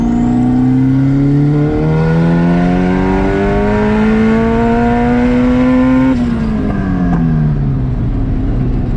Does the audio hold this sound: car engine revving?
yes